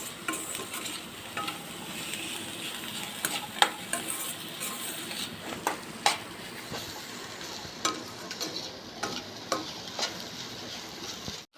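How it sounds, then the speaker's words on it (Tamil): Egg frying with sautéed vegetables sizzles steadily in a pan while a spatula stirs and scrapes. The scrapes come as sharp, repeated strokes at close range, with no talking. "முட்டை போட்டு நல்லா கொஞ்சம் கலரி வைக்கணும்."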